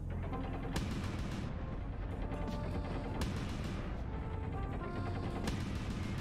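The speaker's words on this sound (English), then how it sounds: "first we're going to open up the side torso with the Rotary autocannons" Rotary autocannons fire in Mechwarrior Online as a dense, continuous mechanical rattle that roars without pause, with sharp cracks of impact punctuating the steady barrage and no voice over it.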